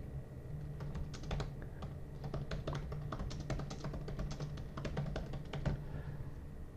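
A comment being typed on a computer keyboard produces a steady run of quick key taps, quiet and close, with an irregular rhythm and no talking.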